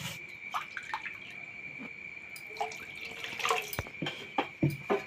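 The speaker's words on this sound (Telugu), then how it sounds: "ఒక గ్లాసుకు 2 గ్లాసుల వాటర్ వేసుకోవాలి" Water is poured into a pan of tomato oats masala, a quiet splashing and dripping trickle with a few small clinks, close by and without talk.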